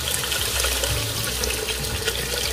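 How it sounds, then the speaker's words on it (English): Water poured steadily into a pan of curry sauce, a continuous close splashing and running sound throughout with no talking. "I'll add the water to make the sauce."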